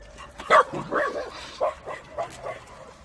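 Dogs bark in a quick, irregular string of yaps and woofs at moderate distance, with short gaps between bursts, at a fort in Kaliningrad.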